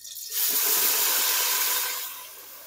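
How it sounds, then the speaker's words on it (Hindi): Spinach dropped into hot oil in a pot sets off a sudden loud hiss and sizzle that holds steady for over a second, then gradually softens, close up with no talking. "अब ये पालक इसमें डाल देंगे।"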